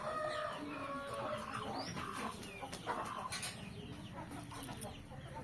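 A Peru cross rooster, eleven months old and about 4 kg, clucks and calls nearby, with other fowl and birds chattering around it in an outdoor yard.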